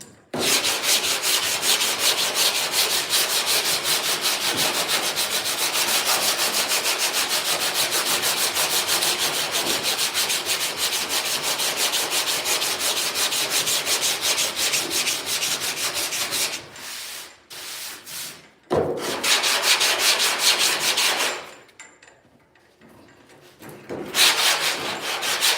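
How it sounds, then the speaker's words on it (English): Body filler on a dented car fender is sanded in a loud, steady, close abrasive rasp that runs almost unbroken, with brief pauses and dips near the end and no talking. "See how easy that's sanding?"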